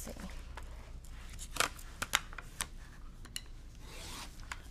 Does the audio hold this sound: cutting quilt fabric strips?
yes